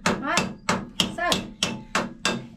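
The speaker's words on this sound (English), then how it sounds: "if in doubt, hit it with a hammer" Seven sharp hammer strikes on a narrowboat land at a steady, even rhythm, each a loud metallic clang that rings briefly before the next blow.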